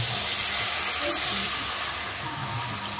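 Water poured into a pan of frying onions throws up a loud, steady steaming hiss that fills the whole moment without letting up.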